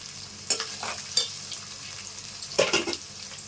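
Onions, green chilies and curry leaves fry in a pan of oil for a pond-fish curry, giving a steady close sizzle with a few sharp bursts of stirring and clinks of a utensil against the pan.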